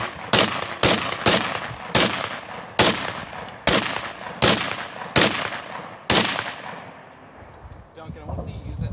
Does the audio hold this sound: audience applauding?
no